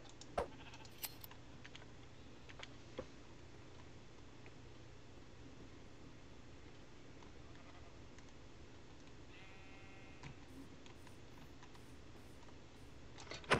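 Sheep in the Minecraft video game give a faint, short bleat amid quiet background ticks and clicks, the surroundings otherwise nearly silent.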